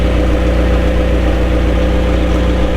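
A McLaren 720S engine idles close up, a loud steady rumble with an even low pulsing throb and no voices.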